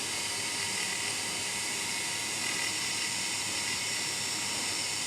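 A tattoo machine buzzes with a steady, even whine as it moves lightly across skin, holding a constant level throughout.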